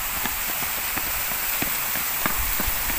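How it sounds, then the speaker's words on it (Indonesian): Heavy rain pours down steadily, a dense constant hiss with scattered close drops tapping on a surface, no voices, in an outdoor spot in Dili, Timor-Leste. "sekarang sudah hujannya semakin deras"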